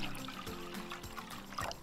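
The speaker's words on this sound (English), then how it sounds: "first we're gonna pour some water in here." Water poured into a camping pot outdoors at a campsite, a faint steady trickle and splash lasting under two seconds over low background noise.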